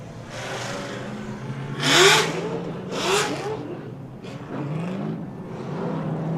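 Drift cars at an LS Fest West drift event, one close behind the other, rev hard with rising engine sweeps and two loud surges about a second apart, then further revving.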